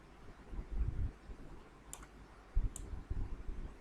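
Computer mouse clicks while drawing shapes in MS Paint, a few soft close clicks spaced apart among low desk bumps and handling noise, no talking.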